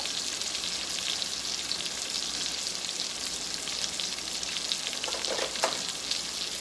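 Baby carrots sauté in a hot pan with seasoning, giving a steady, even sizzle and faint crackle throughout, close by with no talking.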